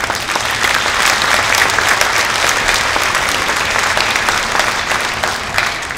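A crowd applauds steadily at a mayor's New Year ceremony, dense clapping filling the whole stretch at an even loudness.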